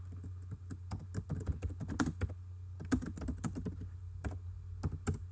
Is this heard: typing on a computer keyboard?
yes